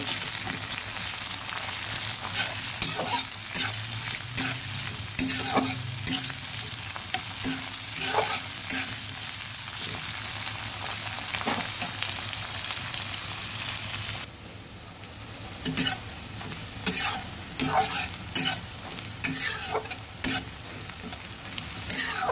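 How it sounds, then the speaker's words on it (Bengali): Bay leaves and green chillies frying in a pan while being stirred, a steady bright sizzle broken by frequent scraping strokes of the spoon, close and continuous with no talking. "তেজপাতা ভালোভাবে নেড়ে ভেজে নেব।"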